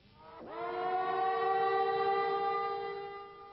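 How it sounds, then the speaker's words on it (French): A civil defense siren sounds across Israel for Holocaust Remembrance Day, rising quickly to a loud, steady wailing tone that holds for several seconds with no voices. "tout le pays s'arrête et les sirènes retentissent en souvenir des 6 millions de juifs morts dans les camps"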